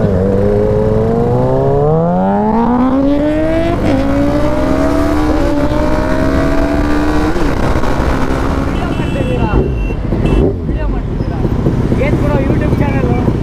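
Kawasaki ZX6R superbike engine revving hard close by, pitch climbing through several rising sweeps before dropping and settling, loud and sustained, with voices talking over it.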